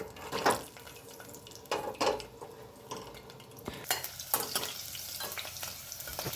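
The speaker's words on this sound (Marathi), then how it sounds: "लसणाच्या पाकळ्या टाकल्या त्या चांगल्या तळून घेतील" Garlic cloves fry in hot oil in a pressure cooker heated over a wood-fired stove, with steady sizzling broken by scraping stirs and occasional metallic clinks of a utensil against the pot.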